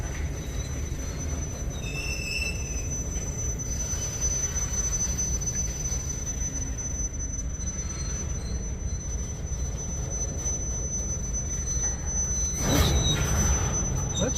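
A CSX freight train rolls past on the track at Resaca, Georgia, a continuous heavy rumble of rail cars with a thin high wheel squeal running throughout and a brief louder surge near the end.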